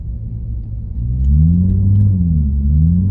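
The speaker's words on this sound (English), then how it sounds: "People driving crazy." A car drives wildly outside, its engine rumbling low and then revving louder with a wavering pitch that rises and falls, heavy and close, with no voices over it.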